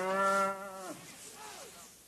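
Cows mooing on a mountain pasture: a single long, deep, harmonic moo held for nearly a second, loud and close, then fading into quiet open-air background with only faint traces of other sounds.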